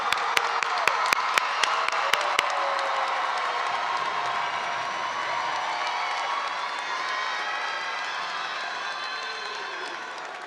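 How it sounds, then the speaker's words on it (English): A large audience at the Discovery High Class of 2022 graduation ceremony claps steadily for about ten seconds, a dense, sustained wash of applause with a few sharp claps standing out at the start. "let's give them one more big round of applause. Class of 2022."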